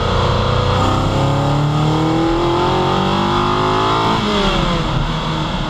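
A Ferrari Dino 246GTS fitted with a 328 V8 engine accelerates hard, loud and close, with a rich multi-toned engine note climbing steadily through the revs, then a brief dip and a pull onward.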